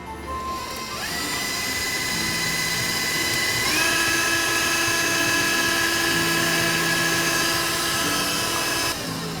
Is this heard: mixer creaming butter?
yes